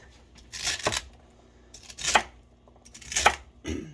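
A very sharp knife slices through fresh celery for a beef barley stew, three crisp crunching cuts spaced about a second apart, close and clear with no talking.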